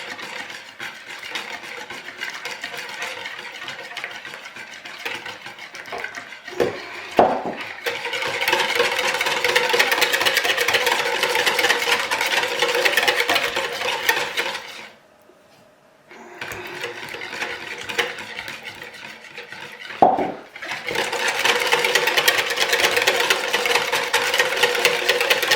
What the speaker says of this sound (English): I believe the stick blender goes a little bit too fast.